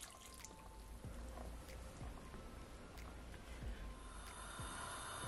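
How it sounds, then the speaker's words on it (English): Water from a jug pours steadily into a cooking pot for a sorrel and pineapple zobo drink, a continuous close splashing and trickling with a few drips, no talking. "I'm just gonna pour it all in my pot like so"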